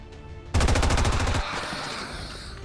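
Automatic weapon fire in the video game XCOM 2, a loud rapid burst of shots lasting about a second and then giving way to a lingering noisy tail.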